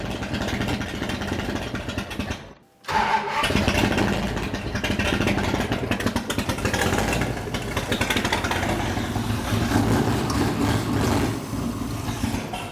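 A race car engine with its ignition timing set too low runs loud and rough with a lumpy, uneven idle, briefly cutting out near the start before roaring steadily on.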